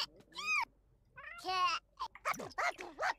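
A cartoonish pet cat from The Sims 4 gives a few drawn-out, wavering meows, then quicker chirpy vocal bursts with a voice briefly joining, all close and fairly quiet.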